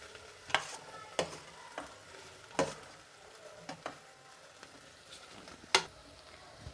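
Vegetables dropped into a hot vaghar for Kathiyawadi khichdi and stirred in, with a soft background sizzle and a handful of sharp spoon-against-pan scrapes and clacks spaced a second or two apart, close and fairly quiet.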